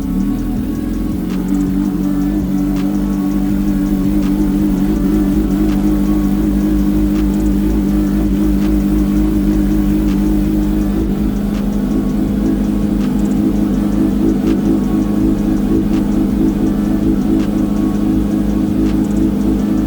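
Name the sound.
Kawasaki Ninja H2 2019 motorcycle engine restarted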